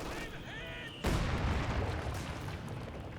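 Mortar shelling in the strategy game Company of Heroes: a heavy boom lands about a second in, followed by a rumbling, crackling barrage of impacts and battle noise, with faint voices in the game mix.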